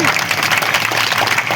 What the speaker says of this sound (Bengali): সবাই করতালির মাধ্যমে ম্যাডামকে শুভেচ্ছা জানাবেন, অভিনন্দন জানাবেন এবং স্বাগত জানাবেন। করতালি চাইব।